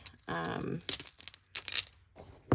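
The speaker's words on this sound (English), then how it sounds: "the last thing that I need to add are my car keys" Car keys dropped into a Coach Floral Appliqué Tabby 26 handbag give a few separate light metallic clinks and jingles in a quiet room, close by, with faint talk and handling noise.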